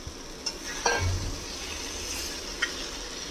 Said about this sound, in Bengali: মশলাটা কষানো হয়ে গেছে, এবারে এটার মধ্যে দিয়ে দেব এই ভাজা আলু আর